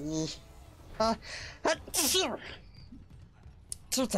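A person sneezes sharply amid scattered spoken exclamations during a Dead Space Remake playthrough, the sneeze a short loud burst between bits of talk.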